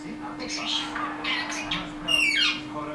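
A pet alexandr rudohlavý parrot chatters indoors in a string of short squawks and chirps, some almost speech-like, ending in a sharper, higher call, all close and moderately loud.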